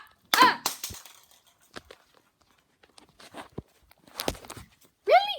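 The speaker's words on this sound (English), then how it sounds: "It didn't even crack the egg. The egg did nothing. Just bounced off. It is rolling like crazy, though." An egg in a video game bounces off a target without cracking and rolls away, heard as scattered short clicks and knocks with brief pitched game sounds between quiet gaps.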